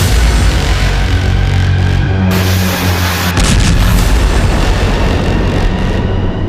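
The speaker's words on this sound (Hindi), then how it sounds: "ये स्पाइक मिसाइल के कंट्रोल्ड हमले की तस्वीरें हैं।" A Spike missile strike explodes with a loud, sustained roaring blast that fills the whole clip, with a brief sharper burst partway through and no voices.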